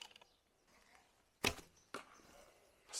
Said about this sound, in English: These arrows fly nice.